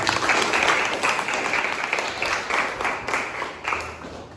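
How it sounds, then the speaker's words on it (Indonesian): A small group claps in a school class session, with scattered, moderately loud applause that fades gradually over four seconds. "Kasih tepuk tangan."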